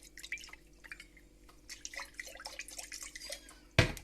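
Liquid poured into a small jar trickles and drips in quick bursts, ending in one louder splash or clink.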